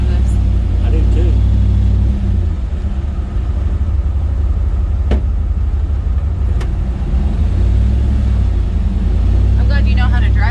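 A 1939 Ford pickup truck's engine and exhaust rumble steadily and loudly close by, with people talking over the low drone.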